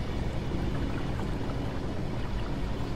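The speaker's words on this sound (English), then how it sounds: "it's taking out the water" A continuous loud rush of water draining out of a room in a video game, like a drain or pump churning, steady and dense with no pauses.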